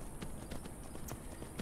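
Horse hooves clip-clop in the game Skyrim, a faint, quick, evenly spaced patter of hoofbeats over soft background ambience.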